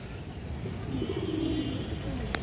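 Pigeons at a breeding farm coo in a soft, rolling, low burble that swells in the middle, over a faint ambient hum with a brief sharp tick at the end.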